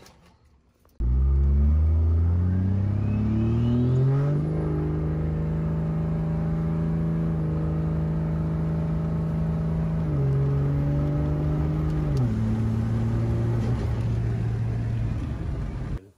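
An engine-swapped car with a second-generation swap launches from rest in a 0 to 60 pull, its loud engine note climbing steadily through gear changes for about fifteen seconds, then easing off.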